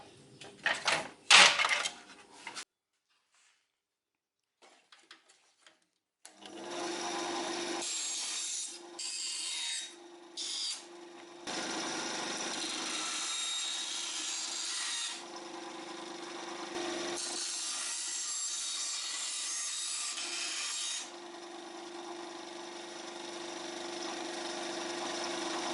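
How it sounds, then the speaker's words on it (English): A bandsaw cuts wood with a long, steady, raspy whir that comes and goes across several passes, after some brief handling clatter and a short silence. "away to the bandsaw"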